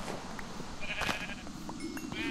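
Sheep bleating in the Minecraft video game, a couple of short nasal bleats over a steady game background, moderately loud with no voices.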